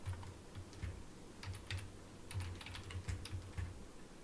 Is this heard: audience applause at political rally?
no